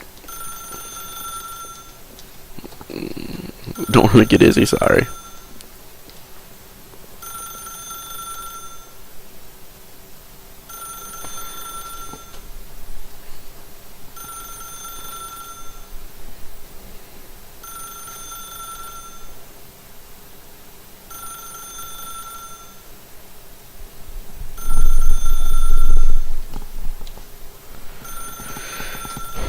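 A telephone in The Stanley Parable video game rings over and over in a steady, regular pattern of bright tones repeating every couple of seconds. Someone talks briefly over it, and two louder bursts of noise break in.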